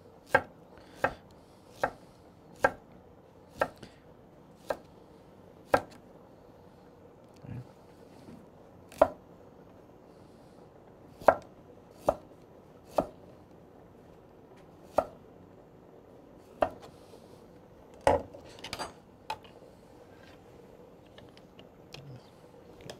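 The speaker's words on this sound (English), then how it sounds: "maybe cut some of my radishes to like garnish my plate" A knife chops radishes on a cutting board as garnish for a red snapper Veracruz plate. Sharp, close single chops come at an uneven steady pace with short pauses and no talking.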